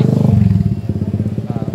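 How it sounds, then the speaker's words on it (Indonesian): A motorcycle passes close by on a street, its loud, pulsing engine chugging in a rapid rhythm that swells and then eases as it goes past. "ini ada motor juga yang lewat nih"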